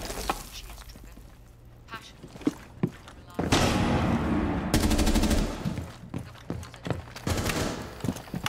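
Rapid automatic gunfire and bursts of shots in the tactical shooter Rainbow Six Siege on the Nighthaven Labs map, loud and dense with clattering impacts, mixed with players talking over the action.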